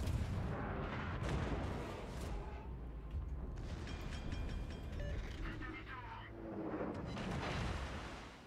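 Warship guns firing blind in World of Warships: heavy booming artillery salvos and rumbling blasts with mechanical rattles, overlapping a talking voice, loud and sustained with repeated swells.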